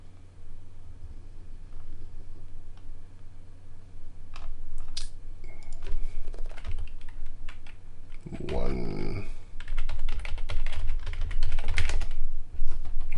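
Fingers tap on a computer keyboard in short bursts of clicking keystrokes, close by, with a faint low hum underneath and a muffled voice briefly in the middle.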